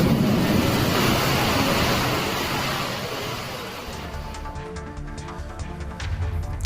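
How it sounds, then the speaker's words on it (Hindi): Rainwater pours and splashes throughout Raipur railway station during monsoon rain, a dense steady rushing that eases slightly midway, with faint traffic-like rumble beneath. "पूरे स्टेशन में पानी गिर रहा है।"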